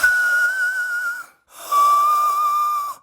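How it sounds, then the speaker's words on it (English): Two sustained, very high breathy whistle-register sung notes, around F6, each held over a second with a short gap between, close and loud with airy noise. "Let's see if I can try and get a low whistle."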